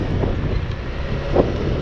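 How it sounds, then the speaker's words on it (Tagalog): Cold wind blows at a beach as a loud, steady rushing buffet against the microphone, low and roaring with slight gusty swells, no voices. "Ang hangin na malamig."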